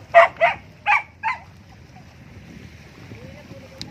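A dog barks four times in quick succession near the start, loud and close outdoors on an island trek by the water, followed by quieter ambient noise and a faint distant sound near the end.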